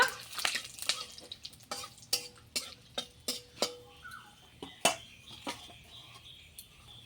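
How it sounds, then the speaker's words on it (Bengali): Whole garam masala and two dried red chillies frying in hot oil in a pan, with a soft sizzle under repeated sharp clinks and scrapes of a spoon stirring against the pan. "এখন এটা ভালো করে একটু লাল লাল করে ভেজে নেব"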